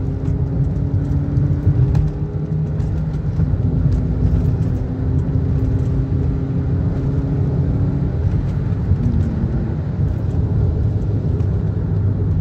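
A Toyota Sienta with a CVT, shifted into manual mode, accelerating in fourth gear, heard as a loud, steady engine drone and road rumble from inside the cabin, with a tone that slowly climbs and then levels off.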